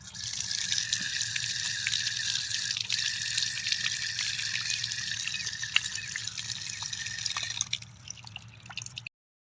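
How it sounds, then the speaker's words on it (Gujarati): Water runs steadily from an outdoor tap at a water tank on a farm while hands are washed, a continuous close splashing hiss that cuts off near the end. "નળ ચાલુ કરી દઈએ."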